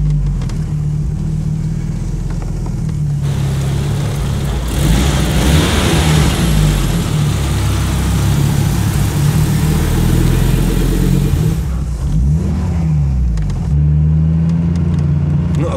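An Audi Sport quattro engine revs hard and accelerates, a loud, close, continuous mechanical roar that climbs in pitch, dips, and climbs again before settling back toward idle near the end.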